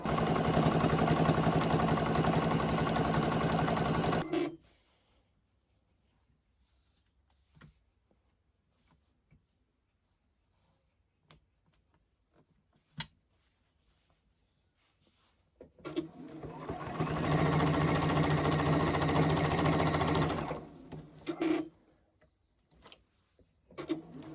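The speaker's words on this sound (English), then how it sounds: "I'm sewing this binding on at 1/4 of an inch." A sewing machine stitching binding onto a quilt at a quarter-inch seam runs in a steady mechanical whir for several seconds, falls silent through a long pause broken by a few faint clicks, then runs again.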